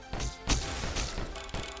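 Enemies exploding in the video game Disfigure, several short punchy thuds and cracks in quick succession, loud and close with no talk.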